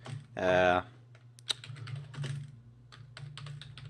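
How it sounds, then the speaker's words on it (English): Light, irregular clicks of typing on a computer keyboard come after a short burst of talk, with keys tapped in small, quick runs close by over a low hum. "so I'm going to type in"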